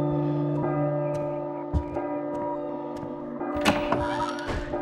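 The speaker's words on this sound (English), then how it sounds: "Maybe I'm supposed to go through the door while the bell's ringing." Bell ringing in the P.T. horror video game, sounding as repeated metallic strikes over a sustained tonal hum, with a louder burst of clanging near the end.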